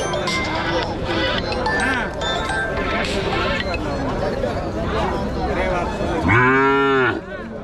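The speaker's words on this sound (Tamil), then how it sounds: "காளை கன்று குட்டிங்க." Cattle and bull calves at a busy livestock market, with a loud, close moo rising near the end over constant crowd babble and people talking nearby.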